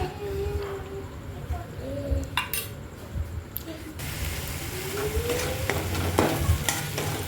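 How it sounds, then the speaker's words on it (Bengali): Black cumin seeds spatter and sizzle in hot oil in a wok, a steady frying crackle with a few clinks and scrapes, and a brief louder burst near the middle. "এবার একটুখানি কালো জিরে দিয়ে দেব"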